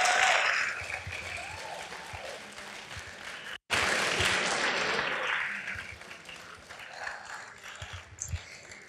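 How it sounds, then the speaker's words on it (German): A café crowd at a climate-themed poetry slam in Essen gives a big round of applause for three performers, a broad, sustained roar of clapping with a brief dropout midway, fading gradually. "von euch bitte einen dicken Applaus"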